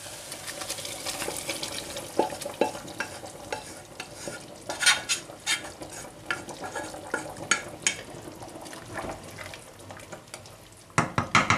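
Fried vegetables are stirred into a pot of beans for a stew, with a steady wet sizzle and bubbling under repeated clinks and scrapes of a spoon against the pot, close up and without talk.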